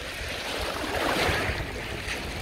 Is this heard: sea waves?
yes